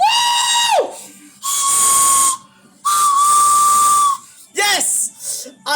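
A loud train steam whistle blows at the London New Year fireworks display, three long shrill blasts with gaps, the last one shorter and wavering, rising and falling in pitch.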